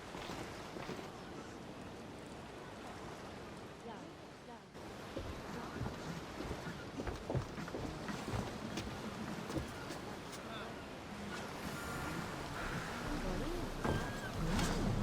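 A ship sails the open sea in Assassin's Creed Odyssey, with a steady rush of waves and wind running under voices talking throughout.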